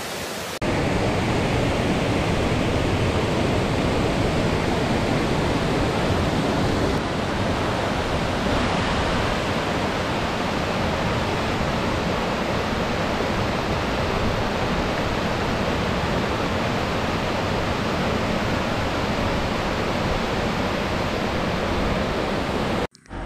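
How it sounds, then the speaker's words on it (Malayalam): A sliding waterfall near Kanthalloor in Kerala pours down in tiers, a loud, unbroken broadband rush of water heard close and steady throughout. "തട്ട് തട്ട് തട്ടായിട്ടാണ് ഒഴുകുന്നത്. അതുകൊണ്ടായിരിക്കാം സ്ലൈഡിങ് വാട്ടർഫാൾ എന്നൊരു പേര് വന്നേക്കുന്നത്."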